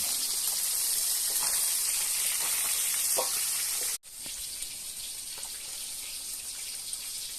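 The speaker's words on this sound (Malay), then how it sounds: "Ini kita goreng dulu." River fish frying in hot oil, a continuous close hiss and crackle with a brief dropout partway through before the sizzling resumes.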